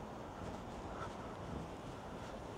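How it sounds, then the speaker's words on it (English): Wind buffets the microphone in a continuous low rumble on a cold, sunny day in Portland, Dorset, England, with steady rushing noise throughout and no one speaking. "it's windy"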